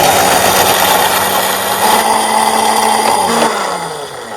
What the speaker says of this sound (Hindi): तो मसाले को ग्राइंड कर लेंगे।